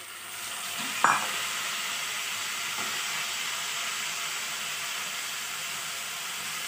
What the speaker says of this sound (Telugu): ఉల్లిపాయలు కొంచెం దోరగా వేగిన తర్వాత మనము టమాటా ముక్కలు వేసేసుకుందాం.